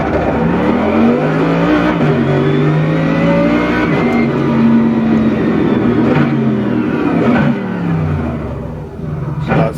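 A racing-sim car heard from the cockpit view, its engine accelerating with rising, sweeping harmonics across the gear changes, loud and steady with no talking.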